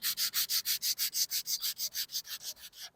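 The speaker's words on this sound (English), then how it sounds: "I'm using some Norton 220 grit, so a little nicer sandpaper than the cheapo 3M stuff at the big box stores." Wood filler being hand sanded with Norton 220 grit sandpaper: steady back-and-forth strokes, about fifteen evenly spaced rasping passes in three seconds, close and clear with no talking.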